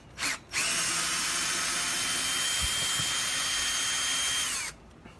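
A power drill backs a long screw out of a door frame, spinning in one steady, loud, high whine for about four seconds after a brief blip, then stopping abruptly.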